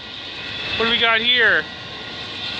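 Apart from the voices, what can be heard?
train locomotive distributed power unit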